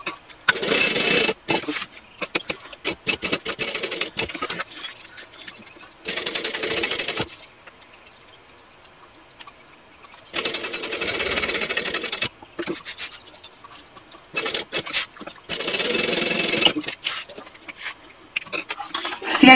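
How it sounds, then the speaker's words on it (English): A sewing machine top stitches a handbag in several bursts of rapid mechanical whirring. Short quiet pauses separate the bursts as the fabric is repositioned. The machine sounds close, with no speech over it. "I'm going to finish off that fold over by top stitching across the top, top stitching down here, and then baste all the way around"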